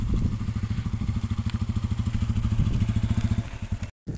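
A motorcycle engine with a front tyre low on air runs at a steady idle, thumping rhythmically up close, then cuts out briefly near the end, with no speech.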